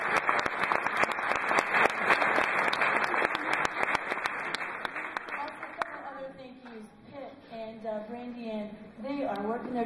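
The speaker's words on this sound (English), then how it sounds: "So could you give them a round of applause for that?" An audience claps for the lighting helpers of a concert production, brisk applause that thins out as a voice begins talking over it in the second half.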